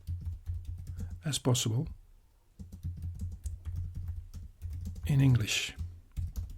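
A prompt typed on a computer keyboard, rapid continuous close key clicks running under a man's speech throughout.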